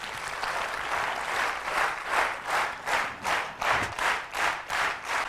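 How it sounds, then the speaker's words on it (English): An audience at a corporate HR induction program applauds warmly, a dense wash of clapping that settles into rhythmic, evenly spaced unison claps toward the end. "Big round of applause for him."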